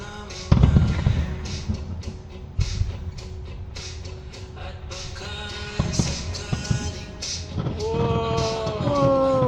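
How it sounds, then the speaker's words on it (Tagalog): Fireworks at the Mall of Asia display burst with sharp booms and crackling pops at irregular intervals, some close and loud, with rising whistles near the end and faint voices around. "Ooh, firework. May dancing fireworks"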